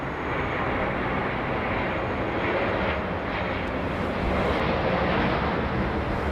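Emirates wide-body airliner, a 747 or A380, landing at London Heathrow, a continuous loud broadband engine roar with no voices.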